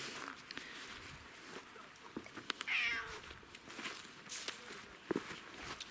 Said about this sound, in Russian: Кот, ну хватит уже под ногами.